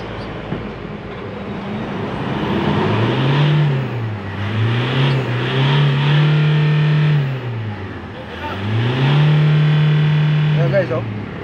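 Toyota Fortuner engine with a camshaft sensor fault revving up in repeated bursts, rising and holding then dropping back, close and loud with a mechanic speaking over it.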